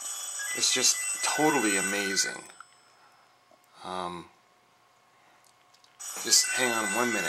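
A telephone rings with a bright, electronic tone, recurring between stretches of someone talking nearby, moderately loud and close.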